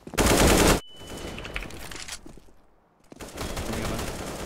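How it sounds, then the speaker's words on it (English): AK rifle fire in CS:GO, a loud close burst of rapid automatic shots at the start, then quieter in-game ambience and a renewed spell of distant firing. "I was shooting the dude"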